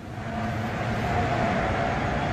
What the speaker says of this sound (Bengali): এই দেখো একটা ট্রেন আসছে ওদিক থেকে